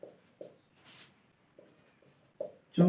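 Pen strokes scratch on paper during a Class 10 maths lesson on arithmetic progressions, coming in short scattered bursts with quiet gaps between them, then a louder scrape at the end.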